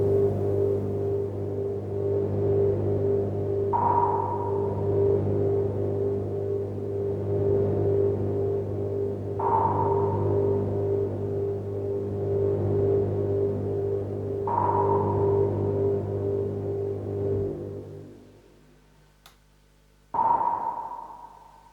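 Synthesized sonar pings made without an oscillator, four sharp ringing pings spaced a few seconds apart over a low steady hum, then a pause and a fifth ping alone near the end.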